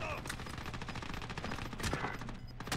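Rapid bursts of video game gunfire crackle continuously through a busy shooter match, loud and dense with repeated shots over steady background game noise.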